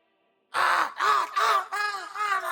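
Crows caw in a D&D session, four or five loud, harsh caws following one another closely after a brief silence, near and alone without talk.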